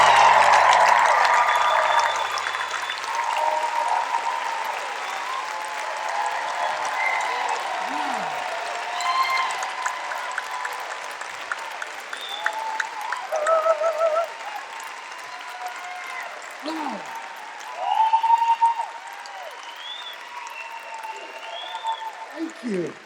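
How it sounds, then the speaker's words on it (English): A church audience welcomes a stand-up comedian onto the stage with sustained applause and crowd noise that stays fairly even throughout, rising in a few bursts and then tapering off. "let's give a big round of applause and a big welcome to Kenn Kington."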